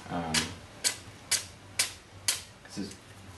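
A sharpened unagi knife slicing through paper in five evenly spaced crisp swipes, close and distinct, with a faint voice at the start.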